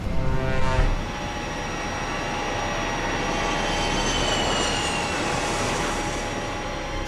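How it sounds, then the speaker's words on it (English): A colossal B-52 bomber takes off, a loud, sustained jet engine roar with a rumbling low end and rising whine, continuous throughout with no talking. "The colossal B-52 takes off on a"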